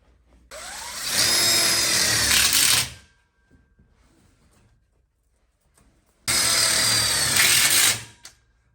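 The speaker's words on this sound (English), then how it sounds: "And now we can go ahead and screw this one in." A power drill drives screws into a frame tube while building the framing for a drop-in side burner, sink and ice bin in a BBQ island: two loud, sustained whirring bursts of about two to three seconds, separated by a quiet gap.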